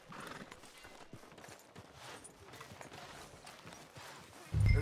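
Horse hooves clip-clop at a steady walking rhythm in Red Dead Redemption 2, moderately near and soft throughout, with a louder thump near the end.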